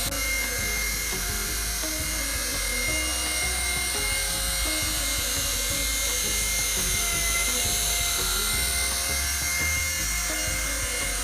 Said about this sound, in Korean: 헬리콥터가 GPS가 없기 때문에 완전히 제자리에 있는 건 불가능해요